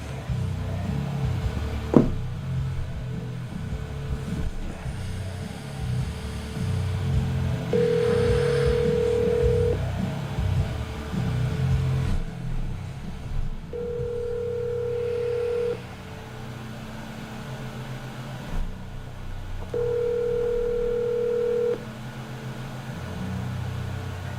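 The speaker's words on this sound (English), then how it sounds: "Just call fucking Ash." A phone call is placed: a faint dial click comes early, then three steady ringback tones, each about two seconds long, repeat at even intervals over low background noise.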